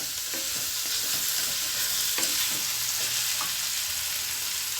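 Brinjal curry is sautéed in a pan, a steady bright sizzle of frying running throughout, with soft scraping stirs tapping in now and then, close and alone.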